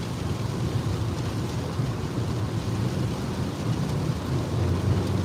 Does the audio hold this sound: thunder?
yes